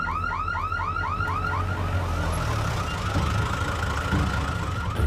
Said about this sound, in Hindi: सायरन क्यों बज रहा है? पुलिस की गाड़ी।